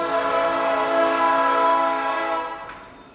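A train horn sounds near a truck workshop as a train passes. It is one loud, sustained, rich chord that holds steady and then fades out near the end, with no talking.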